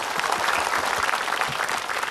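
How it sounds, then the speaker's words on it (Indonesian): A studio audience at an Islamic religious talk show applauds, with dense, continuous clapping from many hands at a steady level and no voices over it. "Tepuk tangan buat Kinos."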